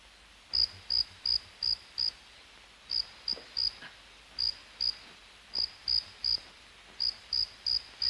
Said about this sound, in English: That's not in your head, sir. That's a cricket.